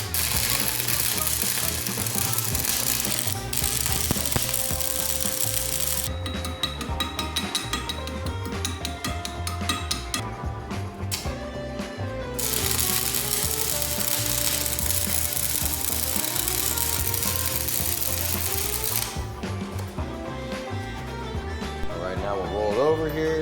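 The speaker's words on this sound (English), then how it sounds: "We're gonna go ahead and weld it up" Welding a trunnion mount onto a steel cannon tube fills the clip with a continuous loud crackling sizzle, broken by brief pauses and shifts in intensity, while a person talks faintly underneath.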